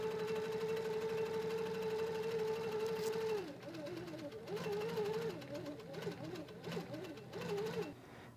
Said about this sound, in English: we can see the quilting system that's been managed by the computer